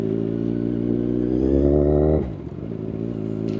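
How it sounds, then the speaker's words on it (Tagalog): A motorcycle engine, its sound somewhat weakened, hums steadily and close, its pitch climbing slightly before dropping off abruptly into a quieter, rougher idle. "Pati yung motor medyo humina na yung tunog."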